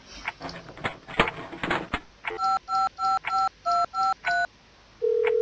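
Telephone keypad tones in a phone booth escape video game: a run of eight evenly spaced DTMF beeps after some rustling handling noise, loud and clear, followed by a steady ringing tone.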